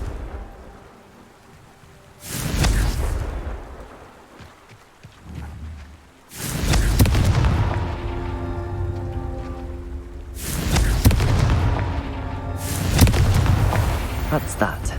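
Confringo fire spells blasting in Hogwarts Legacy, heard as three or four loud, booming explosive bursts with a crackling roar, spaced several seconds apart over a low background rumble.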